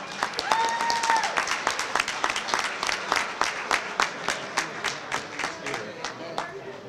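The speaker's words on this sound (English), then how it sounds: "Let's clap it up for the managers" Applause for the team managers at a high school football banquet: a sparse, uneven round of claps from a modest crowd, thinning toward the end, with a brief voice or whistle near the start.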